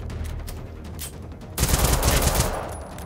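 Rapid automatic gunfire in the video game Generation Zero, faint bursts at first, then a loud, dense stretch of continuous shots up close.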